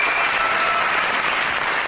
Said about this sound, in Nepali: उहाँको लागि जोरदार ताली बजाऊ